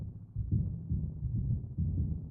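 Heartbeat sound effect from Tristram Cary's Dalek library: muffled, low thumping double beats repeat at a steady, slow pace, soft and bassy with no other sounds.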